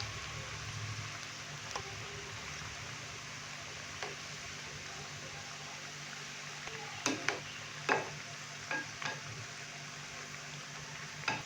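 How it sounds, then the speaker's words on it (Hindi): Macaroni pakoras fry in oil over a medium flame, a steady soft sizzle with a few sharp clinks of a spoon against the pan near the end. "मीडियम फ्लेम पे हम पकौड़ों को फ्राई करेंगे तकरीबन 5 से 6 मिनट के लिए।"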